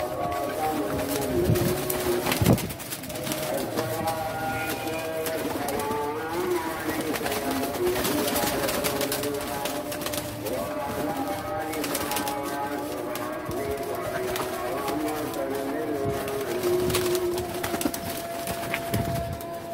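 Pigeons coo steadily in the background of a pigeon loft, with soft repeated calls and some flutters and knocks, while someone talks over them.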